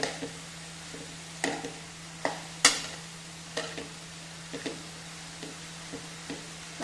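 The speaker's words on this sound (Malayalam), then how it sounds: "നമുക്കിതിലേക്ക് ചതച്ച് വെച്ച തേങ്ങ ഇട്ട് കൊടുക്കാം ഇതൊന്ന് ഇളക്കി യോജിപ്പിക്കാം" Crushed coconut being stirred into a vegetable curry in a pan, a spoon scraping and tapping in a slow, uneven rhythm of soft strokes with a faint steady hum underneath.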